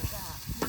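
Food cooking over a low flame at an outdoor picnic, a soft steady sizzle and faint stirring scrape running close and quiet through the short stretch, with a few low bumps from the pot.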